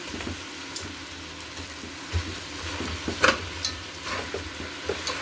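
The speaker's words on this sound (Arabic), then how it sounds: "جميله قوي انك تشوحي كده الارنب، الاعشاب والحاجات اللي احنا عندنا دي" Rabbit sautés in a pot with pepper, cardamom, garlic, bay leaf, onion, carrot and celery under a steady close sizzle, broken by light stirring clinks and scrapes of the spoon. No voices.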